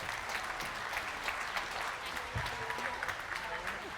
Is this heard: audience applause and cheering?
yes